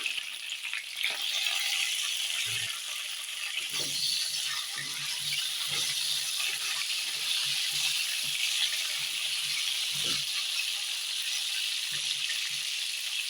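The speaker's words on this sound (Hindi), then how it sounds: "इसमें थोड़ा कलर आ जाए तब तक मैं भूनूंगी, इसको फ्राई करूँगी।" Pieces of Bata fish sizzle steadily in hot oil in a pan for a fish curry, a continuous bright crackle with occasional soft knocks and stirring scrapes, close and alone without talk.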